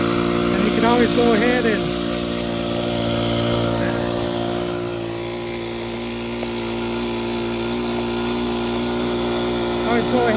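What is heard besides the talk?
Vintage Cub RC model airplane engine running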